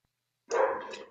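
A single short dog bark, fairly close and clear, following a moment of silence and trailing off briefly.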